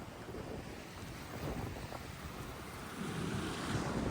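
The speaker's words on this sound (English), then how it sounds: "Yeah, the tide is coming in." Incoming tide washing onto a Pacific Northwest coast: a steady, broad wash of surf and wind noise with a gentle swell near the end, fairly faint and continuous, with no voices.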